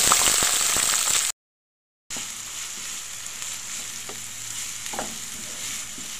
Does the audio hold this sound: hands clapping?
no